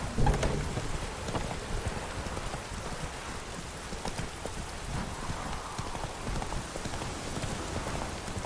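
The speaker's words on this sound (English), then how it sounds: "Lightning strike?" Thunderstorm in the video game The Witcher 3, with steady rain hissing and a low rumble of thunder rolling through. Hoofbeats of a horse clop along underneath, and a sharp crack comes near the start.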